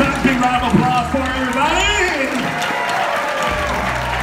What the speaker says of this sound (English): Give these fine ladies a big round of applause.